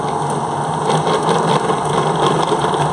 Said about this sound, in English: you want that ball of dough to be spinning around the mixer